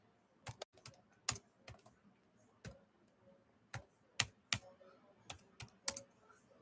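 Fingers without long nails type on a computer keyboard, producing sharp, sparse clicks in irregular clusters, fairly close and quiet, with no talking.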